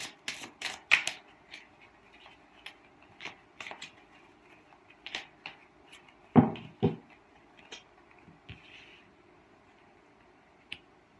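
Tarot cards being shuffled and laid out, giving a run of crisp, snappy card slaps and riffles in an uneven rhythm, close and fairly quiet, with no talking.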